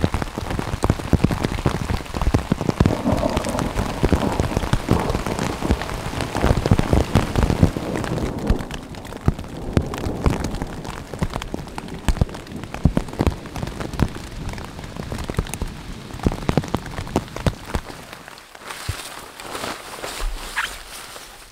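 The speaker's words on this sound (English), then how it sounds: "this rain could go on for a while." Rain falls in the rugged Canadian wilderness, a close, continuous patter of drops striking nearby surfaces, with occasional heavier taps and soft rustling, before easing slightly near the end.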